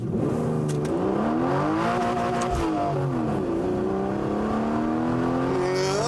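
A sports car engine revs and accelerates loudly in first gear, pitch climbing and dipping as it pulls hard, close by and continuous.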